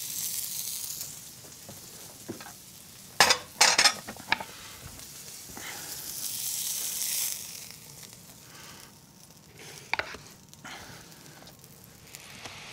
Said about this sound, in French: je déglace pour récupérer les sucres avec de l'eau et un peu de vin blanc